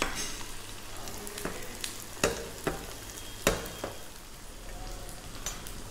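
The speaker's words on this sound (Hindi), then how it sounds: "इसे मीडियम फ्लेम पर हमें फ्राई करना है, और इस तरह से इसके ऊपर हम ऑयल डालते रहेंगे।" Mushroom kabana fries in oil over a medium flame, a steady close sizzle with occasional sharp pops and crackles from the spattering oil.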